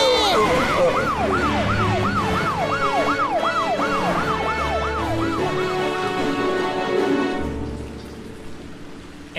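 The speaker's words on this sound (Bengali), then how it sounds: "এত পুলিশের গাড়ি কোথায় যাচ্ছে বুঝতে পারছি না।" Police car sirens in an animated cartoon wail in repeated rising and falling sweeps, loud and steady for most of the stretch before fading near the end, over a low rumbling background.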